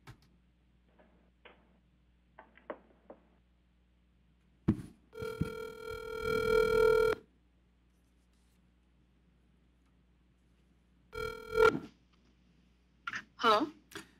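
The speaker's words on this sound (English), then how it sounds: "let me get her on the phone" A telephone call placed during a city council meeting webcast: faint clicks, then a long ringback tone, a pause and another ring, followed by a voice answering near the end.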